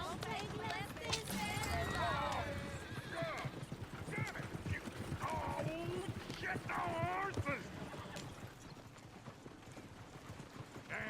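Horse hooves clip-clop steadily in Red Dead Redemption 2, near a passing coach, with voices talking over the rhythmic hoofbeats throughout.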